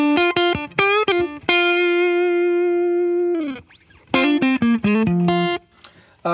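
Clean electric guitar notes and a long sustained chord, dry and clear, with quick plucked phrases before and after and no reverb tail.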